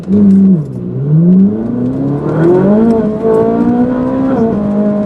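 A car engine revs hard and accelerates on a road, pitch climbing through repeated gear pulls in a loud, close, continuous roar with no talk.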